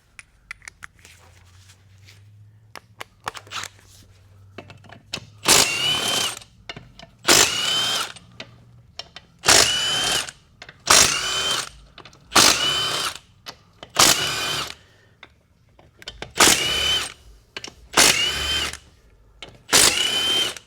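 A power tool drives a 15 mm deep socket on a 6L80E transmission, firing in eight or nine short, loud bursts with brief pauses between them after a quiet start.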